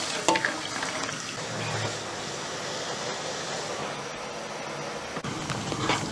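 Rotini pasta cooking in a pot of boiling water, bubbling and simmering steadily with a few light knocks and stirring sounds, close by with no voices.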